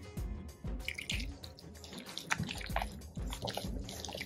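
Water is added to sticky kulcha dough while it is being kneaded by hand at home, giving wet dripping and squelching sounds that repeat in an uneven rhythm close by, with no talk.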